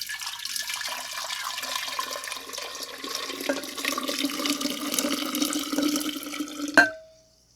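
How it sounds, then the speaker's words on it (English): Hot sweetened tea is poured into a kombucha fermenter, a continuous splashing, gurgling stream of liquid that grows fuller and ends with a sharp clink and a brief ring. "we're just going to pour this into the fermenter"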